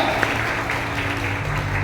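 A church congregation claps and cheers in a broad, steady wash of applause that fills the room for a couple of seconds, with no single voice standing out.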